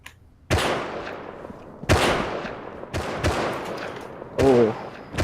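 Semi-automatic rifle fire in a video game, four sharp, loud single shots spaced about a second or more apart, each with a ringing decay, and a voice briefly heard near the end.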